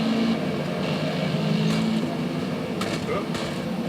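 Race car engine in Forza Motorsport humming at steady revs, with brief pitch shifts and a few sharp transient bursts toward the end, loud throughout.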